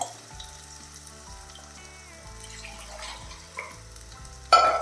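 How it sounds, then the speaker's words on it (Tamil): Water from a mixer jar goes into a pan of Kerala fish curry, giving a soft, steady sizzle under background music that ends in a sudden louder splash and hiss. "இந்த மிக்சி ஜாரில் ஒரு ஒன்றரை கப் தண்ணி விட்டு அதையும் சேர்க்க போகிறேன்"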